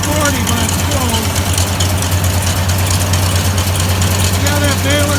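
A tractor runs a New Holland BR 740 A baler near 540 PTO rpm, a loud steady low engine drone with machinery rumble and people speaking over it.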